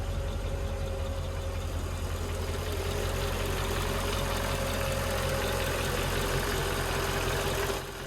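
A Mercedes-AMG M113K supercharged V8, as fitted in the E55, idles steadily with a dense, even mechanical rumble and noticeable valvetrain clatter, close and continuous without talk.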